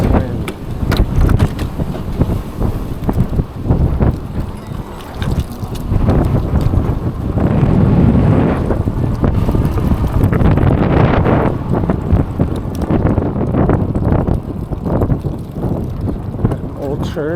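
Wind rushes steadily past the microphone during a night eBike ride through an old neighborhood, loud and continuous for the whole stretch, with a voice speaking over parts of it.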